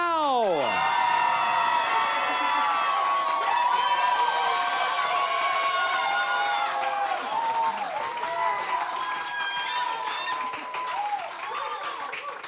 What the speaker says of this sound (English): If this is your favorite, clap now.